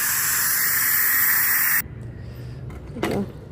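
Steam escaping from a pressure cooker of khichuri as the lid is released, a loud sustained hiss that cuts off abruptly partway, followed by quieter clatter and a brief sharp noise.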